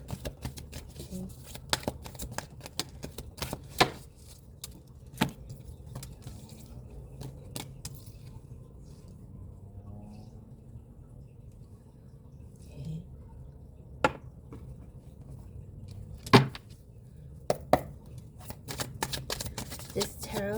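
A tarot deck is shuffled in repeated bursts of riffling and soft card slaps, close and crisp, spread irregularly across a long stretch with quiet gaps between.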